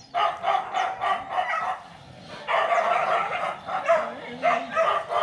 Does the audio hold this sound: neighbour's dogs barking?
yes